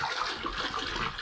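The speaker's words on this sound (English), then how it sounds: "Tip her up and just pour it right onto the saucer." Reverse osmosis water poured onto a saucer inside a 10-gallon freshwater aquarium, a brief, soft, splashing trickle.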